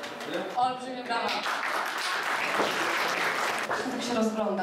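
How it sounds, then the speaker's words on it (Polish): At a gala, an audience breaks into steady applause with a few whoops while a speaker's voice is heard at the start and end over the clapping. "Olbrzymie brawa."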